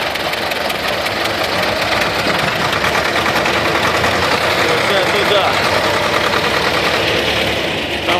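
Two tractors' heavy engines roar steadily and under strain, a loud, continuous labouring drone with a rough knocking texture throughout.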